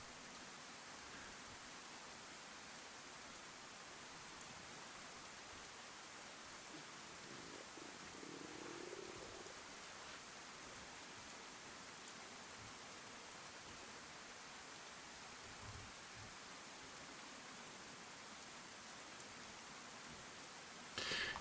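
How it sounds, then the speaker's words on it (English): Steady rain falling in the DayZ survival game on the Chernarus map, a soft continuous hiss of drops with no talk over it, holding evenly throughout. "finally maybe the rain is gonna kill me"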